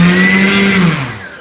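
A Hangar 9 Valiant 20cc-size electric RC airplane motor and propeller spinning up on throttle, a steady whirring tone that holds close and loud, then bends downward and fades as the throttle eases off, with no talking.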